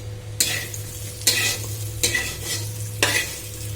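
Pointed gourd (potol) frying in a pan, a low steady sizzle under four distinct stirring scrapes spaced roughly a second apart, close and clear with no talking.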